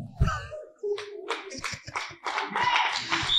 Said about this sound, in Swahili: Hebu mpigie Yesu makofi zaidi